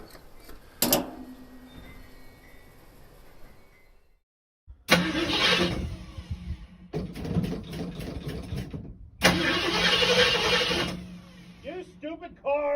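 A 1972 Ford Gran Torino with a 351c engine is cranked by its starter in repeated bursts of several seconds, each loud grinding attempt separated by quiet gaps, with voices talking at the end.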